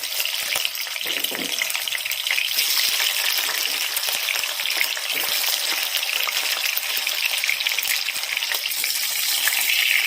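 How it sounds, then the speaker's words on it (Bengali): Fish frying in oil for a Bengali fish korma, a steady dense sizzle with crackling spatter running throughout, close and fairly loud, with no voices. "মাছ ভাজা হয়ে গেছে"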